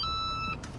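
A car breathalyzer ignition interlock device emits a steady electronic beep tone for about half a second, fairly quiet, then stops, with faint low rumble in the background.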